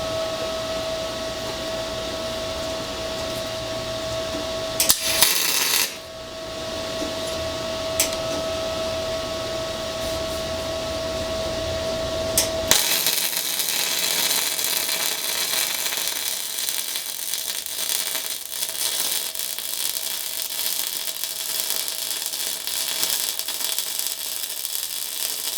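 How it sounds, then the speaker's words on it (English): MIG welder with solid wire tacking down a workpiece and then running a bead: loud, steady crackling hiss fills the second half after brief bursts and a hum, with no one talking. "I'm going to tack weld it down, and then we'll run our bead"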